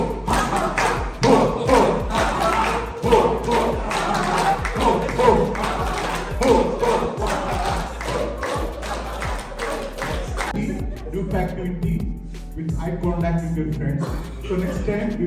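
A group in a corporate laughter yoga seminar claps in a steady, loud rhythm while chanting, with many voices blending over repeated sharp hand claps and the chanting thinning out near the end.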